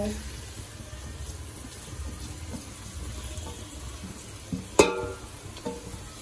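Cabbage, carrot, capsicum and potato with ginger garlic paste fry in a pan for street-style noodles, giving a steady, moderate sizzle and one sharp metallic clank near the end.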